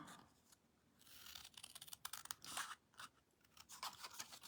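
Scissors snip through paper up close and quietly, in irregular bursts of crisp cuts and short pauses with light rustling between.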